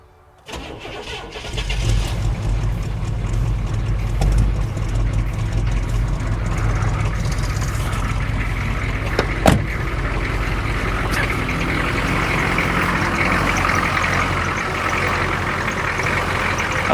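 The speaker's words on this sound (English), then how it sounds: "Blazer fired right up." A 1988 Chevrolet K5 Blazer diesel engine cranks briefly after the glow plugs and fires up, then settles into a steady, loud, close idle with a rough diesel rumble that continues to the end.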